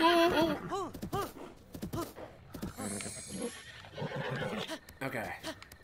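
Horse neighs and whinnies in The Legend of Zelda: Breath of the Wild, several sharp calls up front, then softer game sounds and hoof clatter while a player talks.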